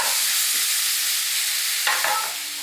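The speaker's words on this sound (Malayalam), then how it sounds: "നമ്മുടെ ആ ഒരു പനീറിനെ നമുക്ക് മാരിനേറ്റ് ചെയ്തൊന്ന് വറുത്ത് പോരാ കേട്ടോ." Marinated paneer sizzles steadily in a pan while a silicone spatula stirs it, with a continuous loud frying hiss and a few scraping stirs near the end.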